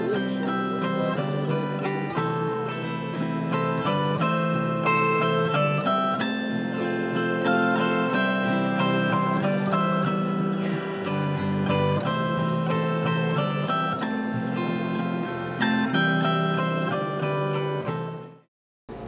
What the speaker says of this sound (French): ce que vous venez d'entendre, c'est une auto-harpe.